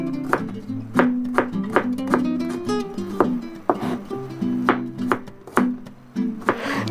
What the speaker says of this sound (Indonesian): Saya iris-iris dulu ya semua bahan-bahannya.